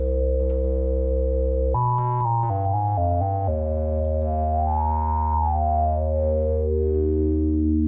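Synthesizer oscillator modulated by random voltage: a sustained buzzy tone that jumps in stepped pitch changes, then settles and slowly swells and sinks, loud and alone.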